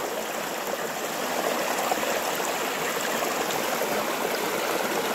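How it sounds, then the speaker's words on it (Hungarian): A Carpathian mountain stream in Székely Land rushes steadily over large rocks and small rapids, a continuous close hiss and gurgle with no voices. "A kristálytiszta patak, ahogy itt folyik, ezek a hatalmas kövek, rengeteg kicsi zúgó van itt."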